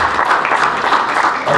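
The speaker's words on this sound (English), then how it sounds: "let's give them a round of applause" A crowd claps for award winners at a community prevention night in Camarillo, a short burst of steady, dense applause with no voices over it.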